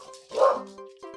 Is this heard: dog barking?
yes